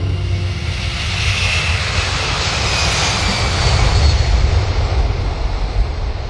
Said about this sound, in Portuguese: o sinistro e ameaçador Blackbird foi segredo militar durante no mínimo 10 anos